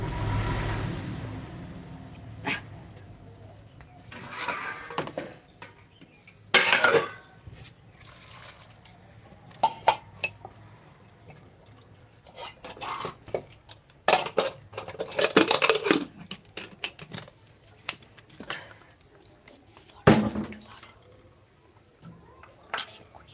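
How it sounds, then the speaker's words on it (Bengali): Vegetables going into a pressure cooker in a home kitchen, with scattered clattering of pots and utensils, splashes and drips of water, moderately close, faint talk in the background. "প্রেসার কুকারে সবজিগুলো ঢুকে গেল"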